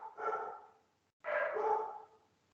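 A dog barks twice, close and fairly loud, each bark a drawn-out, throaty yowl with a short silent gap between them.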